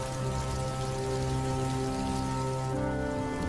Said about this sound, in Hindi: ठंड की पहली बारिश है, सुबह तक खत्म हो जाएगी।